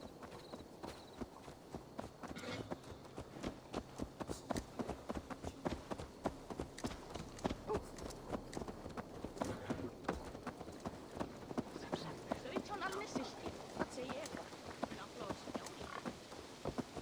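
Hooves of a horse in Assassin's Creed Valhalla clip-clop in a steady, quick walking rhythm, fairly quiet and continuous, with faint ambient game sounds beneath.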